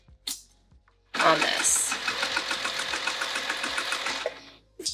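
A sewing machine stitches a fabric luggage sleeve for a bag, running in a steady rapid mechanical whir for about three seconds after a short pause, close by, with a voice speaking briefly before and after the run.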